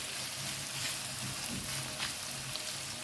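Carrots, onion, tomatoes and hot pepper sauté together with chicken in a hot pan, giving a steady, moderately loud sizzle and hiss with faint stirring bumps throughout and no voices.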